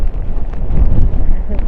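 Strong wind gusts across a clifftop pinnacle on La Gomera in the Canary Islands, a loud, continuous low rumble buffeting the microphone close up for the whole moment.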